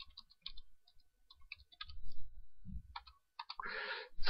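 Computer keyboard keys clatter in irregular bursts of quick clicks while text is typed into an XCTU serial terminal to test XBee Series 2 radios, with brief pauses between words and a faster flurry near the end.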